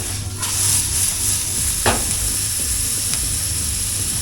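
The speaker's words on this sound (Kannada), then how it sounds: "ಸ್ವಲ್ಪ ಹೊತ್ತು ರೋಸ್ಟ್ ಆಗಲಿ" Eggs and vegetables with capsicum roasting in ghee in a pan make a constant bright sizzle, close and loud, with a few light clinks of stirring.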